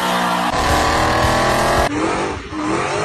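An American V8 in a car roars loud and close at high revs, holding a sustained howl, dropping in pitch briefly, then revving hard again, with no voices over it.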